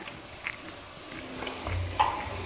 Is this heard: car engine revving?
no